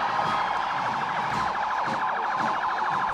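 An ambulance siren wails in a rapid, continuous warble during an independence anniversary parade in Guinea, loud and steady with crowd noise underneath.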